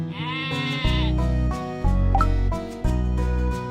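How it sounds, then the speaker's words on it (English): A sheep bleats among farm animals, several wavering bleats over a bright tonal melody, loud and close with no talking. "This is a sheep."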